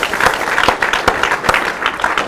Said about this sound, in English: I'd like to get a round of applause for them.